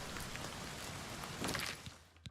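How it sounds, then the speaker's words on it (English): Steady rain ambience in Oblivion Remastered, a dense hiss of falling rain that stays constant throughout, with a few faint thuds and a soft tap near the end. "The bug was rain."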